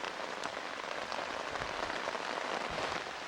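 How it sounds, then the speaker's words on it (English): Heavy rain pours over Texas marshes and wetlands in a sudden cloudburst, a dense, steady, close hiss of countless drops drumming on surfaces with no pauses. "dump several inches of rain in a few short minutes"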